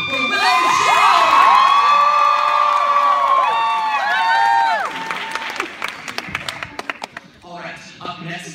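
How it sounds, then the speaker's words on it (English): Fan event audience for The Hunger Games erupting in loud cheering, high-pitched shrieks and applause from a large crowd, fading into scattered clapping at the end. "Let's have another round of applause for Willow Shield!"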